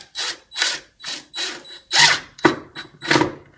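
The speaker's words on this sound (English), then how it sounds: "just push and start screwing it" Screw turned by hand into IKEA flat-pack furniture, making about eight evenly spaced scraping, grinding strokes close to the mic, each stroke a short rasp with brief quiet gaps between.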